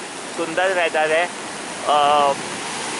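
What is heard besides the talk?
sea waves at Karen Beach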